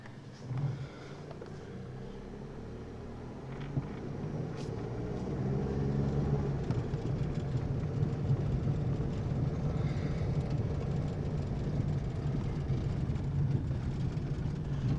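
A 2000 Chevy Cavalier with about 148,000 miles drives along, heard from inside as a low, steady engine and road rumble that builds slightly as the car gets moving.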